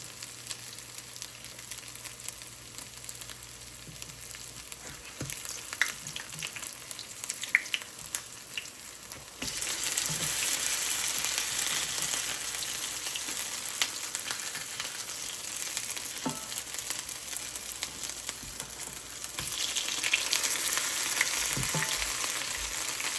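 Hot water cornbread frying in a skillet, a continuous soft sizzle that grows louder and brighter about halfway through, with a few light clinks and no talking.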